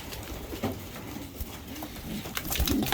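Soft cooing from young pigeons, low and murmuring, with faint rustling and shuffling nearby.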